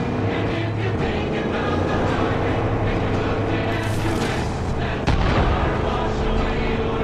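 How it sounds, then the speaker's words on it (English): Mortar fire in the Far Cry 5 video game, a dense continuous rumble of battle noise with a sharp booming impact near the end, loud and steady throughout without talk. "they're attacking with mortars now"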